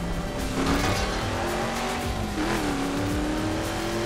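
Car driving through night-time Las Vegas in the racing video game The Crew, a steady engine drone with a rising and shifting tone and some tire noise, continuous and loud without talk.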